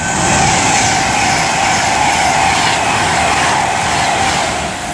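A train roars past close by on the West Coast Main Line at Lichfield Trent Valley, a loud sustained rush of wheels and rumble that fills the whole stretch before easing slightly at the end.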